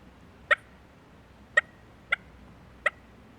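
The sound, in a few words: soft turkey cluck imitated by a hunter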